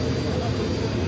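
Military helicopter of the kind delivered to Mali under its military cooperation with Russia, giving a loud, steady engine and rotor roar that holds without a break, with voices talking over it.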